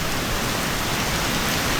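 Steady rain falls across an open town park in Bukit Batok, a dense, even hiss of drops on surfaces throughout with no breaks and no voices.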